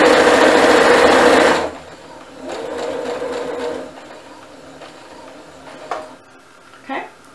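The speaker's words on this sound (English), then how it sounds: "I'm going to lower my foot and sew." A home sewing machine stitches fabric for a face mask with a loud steady whir for about a second and a half, then stops, followed by quieter handling clatter and small clicks.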